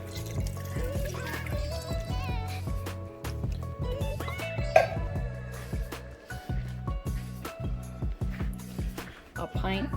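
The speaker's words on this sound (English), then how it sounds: "Go ahead and add the milk." A can of evaporated milk poured into a pot of homemade cheddar broccoli soup, a soft liquid trickle and splash that sits low beneath close, steady talking.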